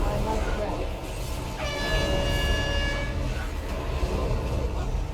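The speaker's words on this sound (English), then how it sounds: "The train." A train horn sounds in a video game raid, a steady tooting tone lasting about a second and a half over constant game noise, with players talking throughout.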